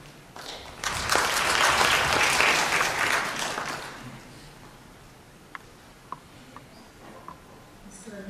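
A conference audience at a CEO forum in Bhutan bursts into dense applause, peaking for a few seconds then thinning to scattered claps and isolated ticks before fading.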